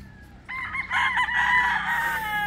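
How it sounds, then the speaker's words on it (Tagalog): On a farm, a rooster crows loudly and close, one long strained call over a low background of hens clucking, no talking. "meron na rin ilang pirasong manok nito"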